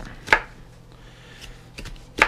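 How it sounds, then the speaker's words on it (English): A knife chops peppers on a cutting board in a few sharp, distinct strikes, one early, then a quick pair, and a final loud hit, with quiet between. "How to insanely speed up chopping 5 fucking peppers."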